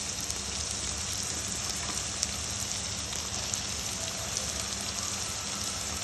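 Sliced onions and green chillies fry in hot oil alongside bitter gourd, giving a steady, dense sizzle and crackle that stays loud and even throughout, with no talking.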